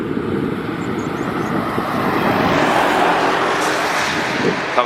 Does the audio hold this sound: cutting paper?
no